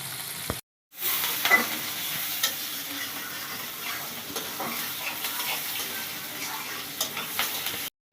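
Onions frying in a pan while preparing a fish bhuna, a steady, soft sizzle with occasional stirring scrapes, briefly cutting out near the start.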